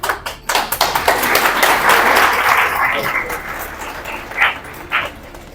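Audience clapping at a storytelling performance, a dense burst of applause building quickly and holding for a few seconds before thinning to a few last claps, with a dog barking nearby.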